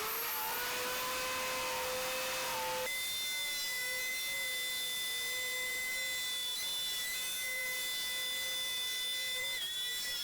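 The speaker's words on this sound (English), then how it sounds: "Route the insert for the saw, cleaning the dust frequently." An Ozito router fitted with a flush trim bit cuts out a saw insert for a home-made table saw, giving a steady high-pitched whine that holds throughout and drops slightly in pitch partway through as the bit loads into the material.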